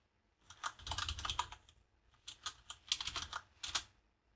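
Rapid typing on a computer keyboard while entering code, two close bursts of clicking keystrokes separated by a short pause, crisp and fairly quiet.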